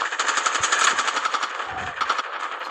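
Rapid automatic gunfire from Call of Duty Mobile, a steady fast stream of shots lasting throughout with brief dips, loud and close, no talking.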